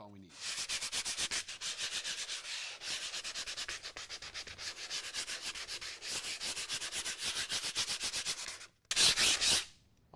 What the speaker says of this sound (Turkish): Hafif hafif zımparalıyoruz evet